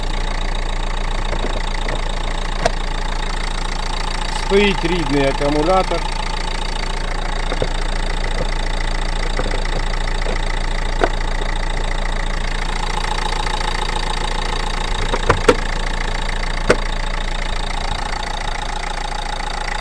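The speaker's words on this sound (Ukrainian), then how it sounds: "Двигун працює гарно." A car engine idles steadily with a low, even rumble throughout, while someone speaks briefly over it near the middle.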